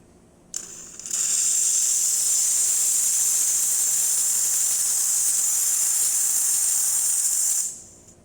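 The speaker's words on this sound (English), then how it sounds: "And the steam." A Pasquini Livia 90 espresso machine steam wand gives a loud, steady hiss, blasting continuously for several seconds, starting abruptly and tapering off at the end.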